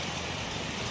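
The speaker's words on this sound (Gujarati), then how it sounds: "વરસાદ ચાલુ થઈ ગયો છે." Rain falling outdoors near a roadside fruit shop, a steady soft hiss that stays even and unbroken for the brief moment.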